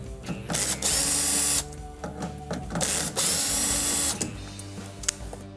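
A power screwdriver whirs in several loud bursts of a second or so each, separated by short clicking pauses, while backing screws out of the water valve housing on a Kenmore refrigerator.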